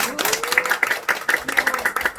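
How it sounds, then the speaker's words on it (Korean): Small group clapping at a home meeting in Yongin, South Korea: a burst of close, crisp handclaps lasting a couple of seconds, with a few voices calling out faintly underneath. "다시 한번 박수."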